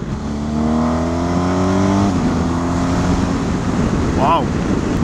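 A BMW R1250GS Adventure motorcycle engine accelerating hard, its loud note climbing in pitch, dropping briefly at a gear change, then rising again under heavy wind roar.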